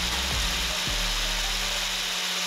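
An angle grinder runs on a homemade variable speed controller with a dense, continuous, loud mechanical whine and hum, the motor pitch shifting briefly near the start before settling, close and steady throughout.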